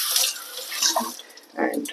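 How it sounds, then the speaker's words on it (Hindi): Tap water gushing and splashing during an RO water filter change on a main supply line, a close, fairly loud hissing flow that surges and eases, with a brief spoken word over it. "पानी खोल देते हैं।"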